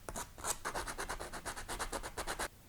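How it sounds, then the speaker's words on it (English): Quiet, rapid scraping strokes of sanding plastic corners on a Dart Zone Solo toy blaster shell, in a quick even rhythm, close by and continuous for a couple of seconds. "Smooth off any unwanted corners in the plastic."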